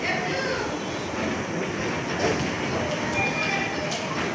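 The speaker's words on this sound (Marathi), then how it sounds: "ही आपली ट्रेन लोकल" A Mumbai local commuter train rumbles past steadily near Mumbra station, with a broad continuous roar and faint rail clatter throughout.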